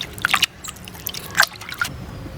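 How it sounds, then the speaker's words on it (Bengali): Water drips and splashes in a few brief, close bursts while ginger is rinsed in a kitchen, with quiet gaps between. "আদাটাকেও আমি ধুয়ে নিচ্ছি"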